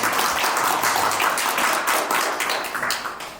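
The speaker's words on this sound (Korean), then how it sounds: "다시 한번 큰 박수 부탁드리겠습니다" An audience at the opening of an academic conference applauds steadily, dense clapping filling the room and slowly tapering off toward the end.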